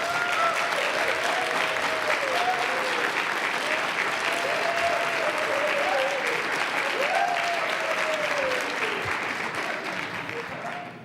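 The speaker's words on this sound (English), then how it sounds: "If you keep applauding, I'll shorten my comments even more." An audience at a university diversity forum in Wisconsin applauds steadily for a speaker, a dense sustained wash of clapping that runs for about eleven seconds and fades at the end, with a voice speaking over it.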